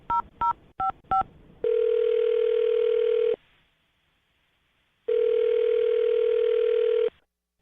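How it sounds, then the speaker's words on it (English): A landline telephone being dialed, four quick keypad tones followed by two long steady ringback tones with a pause between them, clear and close with no talking. "I'm going to dial her phone number right now"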